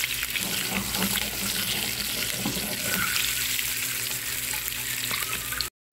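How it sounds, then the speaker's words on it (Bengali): An egg with turmeric and salt fries in oil, giving a steady close sizzle with light stirring scrapes and watery crackle, ending in abrupt silence. "দিয়ে ডিমটা বাদামি করে ভেজে নেব"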